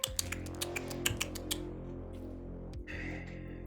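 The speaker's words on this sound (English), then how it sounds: "You hear clicking." Rapid clicking while a call is patched through, a quick series of sharp ticks for about a second and a half, then a low steady hum with a faint later click.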